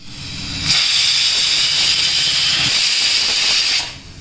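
A pressure cooker cooking dal on a gas stove lets off steam in one loud, steady hiss lasting about three seconds, starting and stopping abruptly, with no voices.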